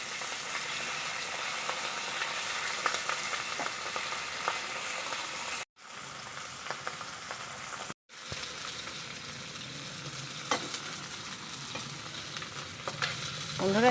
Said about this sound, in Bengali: বাকি মাছগুলোকেও আমি সেমভাবে ভেজে নিলাম, হালকা করে ভেজে নিলাম।